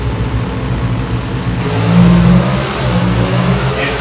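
Dodge Hemi drag race cars launch off the line with a loud, sustained engine roar that swells and rises in pitch as they accelerate away.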